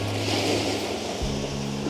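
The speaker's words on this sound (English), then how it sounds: "These waves are awesome though" Open-sea waves wash around a sailboat, a broad rushing swell with wind buffeting the microphone and a low hull thump partway through, no talk.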